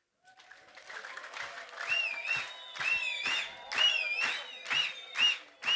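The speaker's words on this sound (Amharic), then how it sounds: "ዛሬ ታላቅ እልልታ ጭብጨባ ለእግዚአብሔር የምናቀርብበት ቀን ነው" A church congregation claps in a quick, rhythmic beat while high, wavering ululation trills rise above it, the whole sound fairly soft and steady for several seconds.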